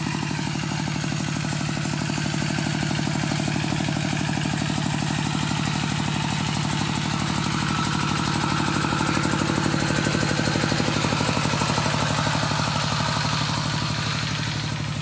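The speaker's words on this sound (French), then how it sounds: "pour pas qu'il y ait le bruit du moteur" A steady, rumbling motor engine runs continuously at close range in a village rice field in the morning, its low mechanical drone unbroken throughout with a faint clatter on top.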